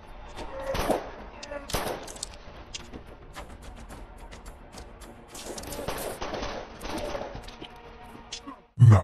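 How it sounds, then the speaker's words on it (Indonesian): Action film shootout with bursts of gunfire, sharp close shots and rattling volleys scattered over a noisy battle background, with occasional voices mixed in and a loud final blast at the end. "kepala Saju ditembak oleh Gopal ketika dia hampir membantai semua polisi"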